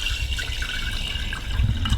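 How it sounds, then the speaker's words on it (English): Water from a tap pours into a jar holding about two tablespoons of sprouting seeds, a steady trickling fill that runs the whole time, close and moderately loud, with no talking. "Put them in your jar, and then just fill it with water."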